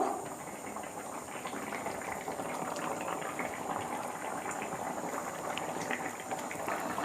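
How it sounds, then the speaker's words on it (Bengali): A pot of thin rui fish curry at a rolling boil, bubbling and hissing steadily and fairly loudly from start to finish with no talking. "ঢাকনাটা আবার খুলছি, তরকারিটা ফুটে গেছে, আমি এবার মাছ দিয়ে দেব"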